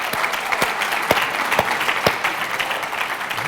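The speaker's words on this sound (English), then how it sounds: "Let's just give them a round of applause for being here." A seated audience at a faith summit on education claps steadily and loudly for several seconds, dense and close with no voices over it.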